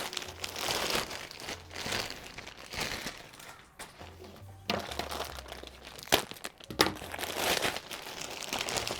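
Plastic packaging around fleece blankets crinkles and rustles up close in irregular bursts as they are unwrapped, with no one talking.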